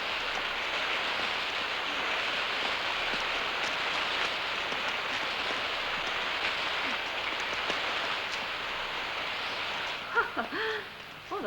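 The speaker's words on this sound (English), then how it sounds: "It's gonna rain." Steady rain falls outdoors near church ruins, an even hiss of drops on surfaces that continues without a break, with a brief murmur of voices near the end.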